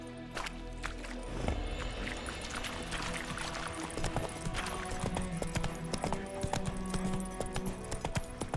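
Roach, the horse in The Witcher 3, gallops in a fast, steady clip-clop of hooves on the ground, close and continuous, with a low game ambience underneath.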